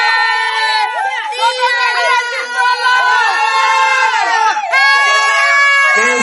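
Wedding guests at a civil marriage ceremony cheer and ululate loudly together, a dense, continuous chorus of high trilling voices and shouts close by, swelling again near the end.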